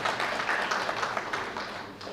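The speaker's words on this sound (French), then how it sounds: "Sous vos applaudissements bien sûr" Audience applause at the official launch of an accountants' club in Senegal, a dense steady clapping that fills the whole stretch at moderate level without a break.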